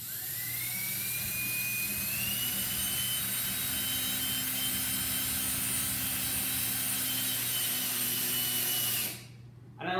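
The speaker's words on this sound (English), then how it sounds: "drill it into one of these holes." A power drill drives a screw into an iron baluster on a wooden staircase, a continuous high whirring motor whine that holds steady for about nine seconds, rises slightly in pitch, then cuts off abruptly before a brief restart.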